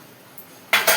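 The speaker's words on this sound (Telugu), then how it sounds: "మూత పెడదాం" A metal lid set onto a cooking pot in a home kitchen after preparing rasam, giving two quick close clanks in the last moments after near silence.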